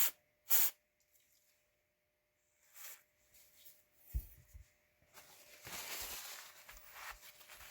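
An aerosol can of setting spray hisses in several short bursts, followed by a longer, steady spray, close by with soft rustling in between.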